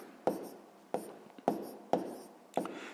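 A pen writing out a sixth-grade math solution on paper: five distinct tapping strokes with short scratchy tails, evenly spaced about half a second apart, close and clear with no talking.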